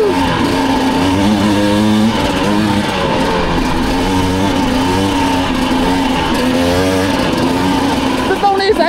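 A two-stroke dirt bike engine, recorded on an action camera while riding, drones loudly and continuously, its pitch rising and falling with the throttle throughout.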